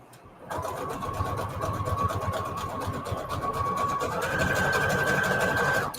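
A sewing machine runs zigzag stitches across cardstock, a steady close mechanical whir that holds for several seconds and then rises slightly in pitch toward the end, with no talking.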